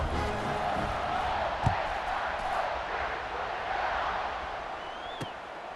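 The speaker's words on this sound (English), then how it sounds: "this crowd is buzzing after that last score." Dense stadium crowd buzzing at a night college football game between Florida and Ohio State at Ohio State, a steady loud roar of many voices with a couple of brief sharp peaks.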